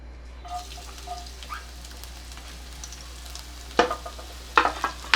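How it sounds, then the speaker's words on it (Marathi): Garlic, ginger and chili drop into hot oil for manchow soup and sizzle softly, with a few sharp crackling bursts near the end. "तेल जरा गरम होऊ दे आता इथे मी हा लसूण आलं आणि मिरची"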